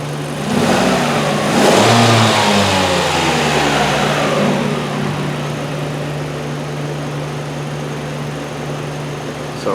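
A Hyundai Elantra engine runs at a steady idle, rising briefly in a slight rev early on before settling into a constant low hum with a sustained tone, loud and close, with no talking.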